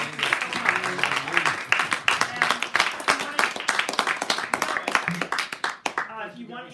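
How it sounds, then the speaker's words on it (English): A panel audience with the crew from SNL applauds steadily for several seconds, dense clapping that thins out near the end, with voices talking over it. "why don't we give them a round of applause"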